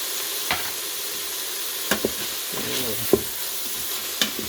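Spoon stirring black-eyed peas and collard greens in the pot of an Emeril Lagasse pressure air fryer, a steady soft simmering hiss under a few scattered scrapes and clinks, close by and with no voices.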